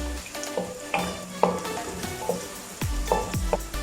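Garlic and ginger sauté in a pot for chicken makhni, steady sizzling broken by repeated clinks and scrapes of a spoon stirring against the metal.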